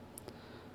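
Two quick, faint computer mouse clicks while selecting a cell in an Excel spreadsheet, over a low steady background hum.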